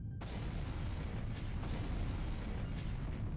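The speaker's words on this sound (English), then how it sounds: "Several explosions go off within the room." Several explosions go off inside a room aboard the Nautilus during a self-destruct sequence in the game Code Realize, a dense continuous rumble of booming blasts with sharp bursts near the start and middle, loud and alone.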